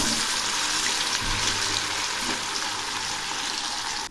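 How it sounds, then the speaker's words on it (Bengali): Soya chaap pieces fry in hot mustard oil in a kadai, giving a dense, even hiss that sounds almost like running water. The sizzle stays loud and close with no voices, then cuts off abruptly at the end. "এখন আমি অল্প অল্প করে চাপগুলো ভেজে নিচ্ছি"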